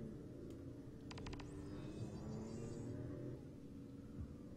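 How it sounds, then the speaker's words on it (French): A car drives in Final Fantasy XV, a steady low engine rumble held at an even level throughout, with a brief burst of higher clicking ticks near the start and no talking. "Bon, petit tour en voiture."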